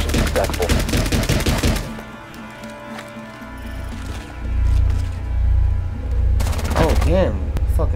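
Rapid gunfire in the video game Rainbow Six Siege, with a loud burst of automatic shots at the start and another near the end, and rumbling game sounds in between.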